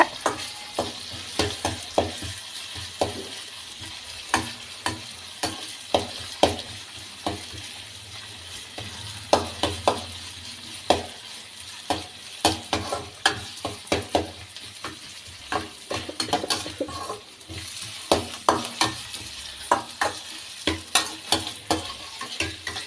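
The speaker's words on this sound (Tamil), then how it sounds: "இந்த மாதிரி நல்லா வதக்கணும்" Tomatoes are sautéed in a pan for tomato thokku, with a soft continuous sizzle under frequent rhythmic scrapes and taps of a spatula stirring throughout, no speech.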